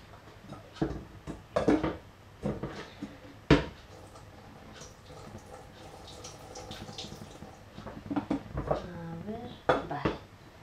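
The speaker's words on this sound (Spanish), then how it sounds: "le voy a quitar un poquito de caldo, porque veo que tiene demasiado" Broth is ladled from a pot of lentils, with intermittent clanks of the ladle against the pot and liquid splashing and dribbling, up close in a kitchen, broken by bursts of a person talking.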